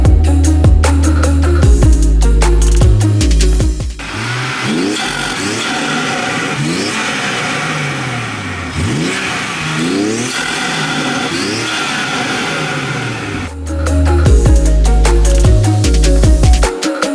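A BMW M140i revs hard, its engine and exhaust rising and falling in loud, close sweeps with sharp blips, settling into a steadier throttle hold before snapping back to quick revving.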